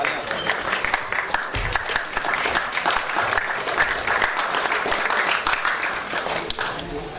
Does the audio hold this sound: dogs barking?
no